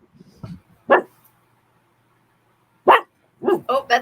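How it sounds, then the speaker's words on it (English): A dog named Oscar barks in two short pairs of sharp yips, separated by a couple of seconds of quiet, close by inside a van. "that's Oscar barking"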